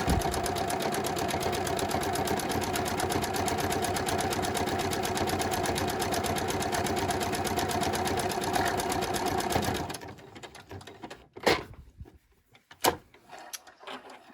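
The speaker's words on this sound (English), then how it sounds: "I'm doing vertical buttonholes. And then I just hit the pedal. And then the machine does it." A sewing machine stitching vertical buttonholes runs at a fast, even whir for about ten seconds, close and loud, then stops, leaving a few soft clicks and handling noises.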